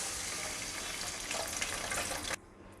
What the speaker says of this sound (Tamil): இப்போ நம்ம அதில் எடுத்து வச்சுருக்கேன் அந்த பாசி பருப்பு நம்ம அந்த தண்ணியோடு போட்டுடலாம்.